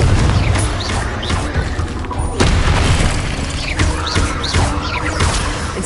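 Repeated Confringo blasting-curse explosions in a Harry Potter video game, loud booming bursts layered over dense game noise and music, coming in quick succession.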